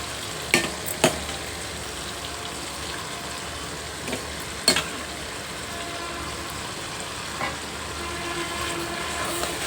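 Cooked gongura leaves go into a pan of sizzling chicken with tomato and coriander powder, a continuous close frying hiss broken by a few sharp clatters and stirring knocks.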